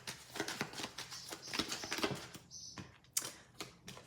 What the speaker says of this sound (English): I'm gonna shuffle again.